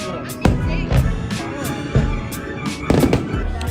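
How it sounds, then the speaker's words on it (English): Fireworks bursting over Dubai, a rapid series of sharp cracks and booms at irregular intervals over a crowd murmur, with a voice speaking briefly. "There's fireworks going on."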